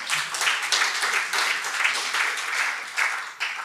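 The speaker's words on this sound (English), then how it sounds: "That needs a round of applause." A conference audience at a Scala programming talk breaks into a short burst of dense clapping that swells and then tapers off, without any voices over it.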